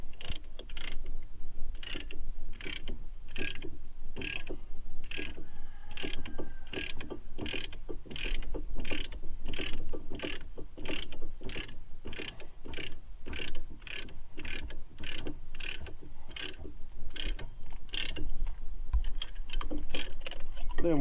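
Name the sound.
caliper spreader pushing brake caliper piston back, Buick Regal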